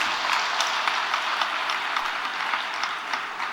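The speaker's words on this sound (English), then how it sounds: "Can we please give him a round of applause one more time?" Audience at a conference plenary session on economic reform applauding a presenter, a dense, even burst of clapping with individual claps standing out, filling the clip alone.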